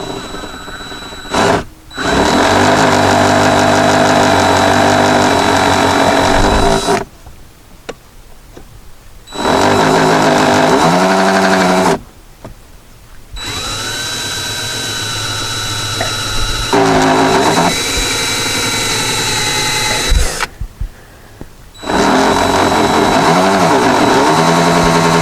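Power drill boring through metal on a 2010 Jeep Cherokee, starting from a small pilot hole; loud, steady whirring runs in several long bursts separated by short silent pauses, with the pitch shifting slightly as the bit cuts.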